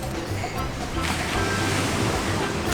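Ocean waves wash onto a beach in Cancun beside a resort pool, a steady broadband surf roar with wind noise on the microphone, continuous and fairly close for the whole stretch.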